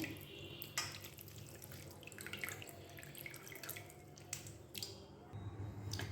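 Grated raw mango being washed and squeezed by hand in a bowl of water for mango laddu, faint wet squishing and trickling with small drips, quiet and close, no speech.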